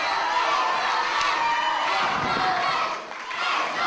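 A wrestling crowd at an Irish Whip Wrestling show cheers and shouts in a loud, sustained roar that dips briefly before swelling again.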